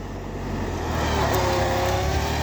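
A Massey Ferguson 6026 tractor engine in second gear rumbles steadily and loudly nearby, its drone swelling slightly, with no talking.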